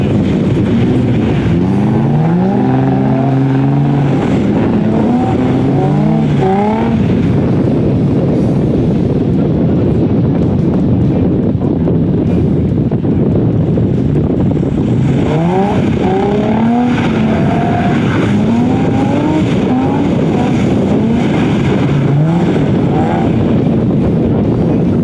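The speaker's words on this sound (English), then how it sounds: "So now I'm gonna try and do this drift thing on my own." A car drifts in repeated circles around a cone, its engine revving and whining in rising and falling pitches over steady, loud wind buffeting on the microphone, with the note surging several times across the run.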